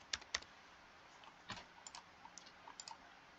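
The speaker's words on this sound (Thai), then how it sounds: "เดี๋ยวผมจะลอง พิมพ์ผิดให้ดูนะครับ" Soft, sparse clicks of a computer keyboard as a password is typed into a website login, a few quick taps then scattered single keystrokes, quiet and close with no talking.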